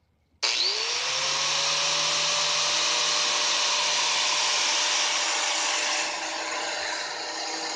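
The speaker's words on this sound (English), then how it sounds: "Sand like this. Sand it really soft. around this area." Steady broadband hiss with a whining tone, consistent with a power sander rather than hand sanding, worked on bondo body filler over a car body kit; continuous and close for most of the clip, with no talking.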